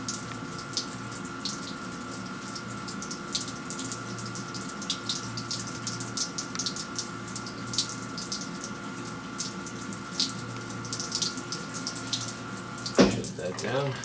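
Coolant water sprays steadily from the coolant lines on a Tormach 15L slant lathe, a continuous hissing splash with a steady machine hum beneath and a brief clunk near the end.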